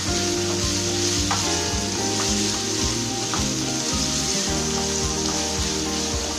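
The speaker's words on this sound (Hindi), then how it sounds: "इसके साथ प्याज को बस मैं इतना फ्राई करूंगी कि इसका कलर चेंज हो जाए" Onions frying in oil for a chicken and capsicum curry give a steady, loud sizzle throughout, with a constant hiss and occasional stirring clicks over a droning background hum, and nobody speaking.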